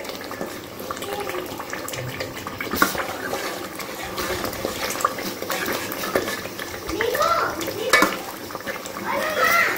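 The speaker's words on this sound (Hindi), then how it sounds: "यहाँ पर मसाला भून रहा है" Masala spices roasting in a pan on a home stove for a chole curry, with a steady sizzle under scraping and clinking of a spoon against the metal pan throughout, close and fairly loud.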